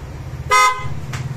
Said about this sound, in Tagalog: Pwede stock horn, pwede PIAA.